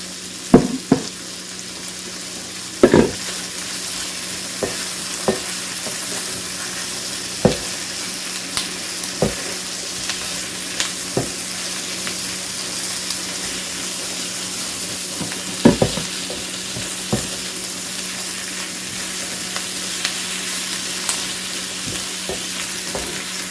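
Onions sprinkled with kosher salt fry in a pan for baked pasta, a steady close sizzle broken by sharp scraping knocks of stirring, heaviest near the start and around the middle, with no talk.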